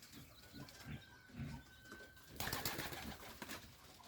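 Pigeons in a dovecote give soft coos, and then wings burst into loud flapping partway through as birds take off close by, with a thin steady whine running underneath.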